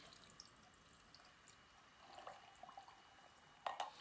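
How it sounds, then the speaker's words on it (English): A mixed drink is strained into a highball glass full of ice. The liquid trickles faintly and quietly, then ends in a brief louder splash and clink near the end. "we're going to strain the drink in here."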